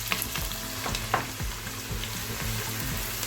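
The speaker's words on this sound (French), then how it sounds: "À mon huile chaude, bien chaude, je viens ajouter les oignons." Onions frying in very hot oil in a saucepan, a steady close sizzle with crackling pops and occasional stirring scrapes throughout, no voices.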